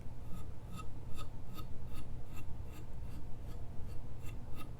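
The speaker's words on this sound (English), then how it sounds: "listen carefully to the sound of the stone" A ZT Hinderer Slicer 0562 knife edge carrying a slight burr scraping across a sharpening stone in quick, evenly spaced short strokes, about a dozen soft rasps over a low steady background.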